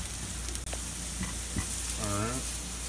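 Meat sautés in an iron skillet on medium-low heat for stuffed bell peppers, giving a steady soft sizzle with a few scraping stirs and light clicks over it.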